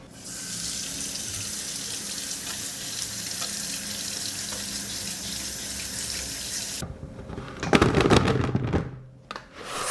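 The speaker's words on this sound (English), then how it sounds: "I have prepared the cucumbers and I will wash them first." Running tap water pours steadily over cucumbers being washed for pickles, a continuous bright splashing that gives way near the end to louder, choppier sloshing and handling before trailing off.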